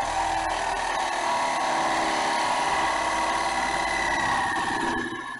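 Power saw cutting pieces of wood for a card display, a loud continuous whining drone held steady for several seconds, close by, before tapering off at the end.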